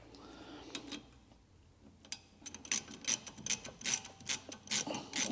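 Socket wrench with a heavy-duty 10mm socket and reducer undoing the brake caliper bolts on a Vauxhall Mokka, giving a run of quick, close ratcheting clicks and metallic rasps that grow denser and louder toward the end.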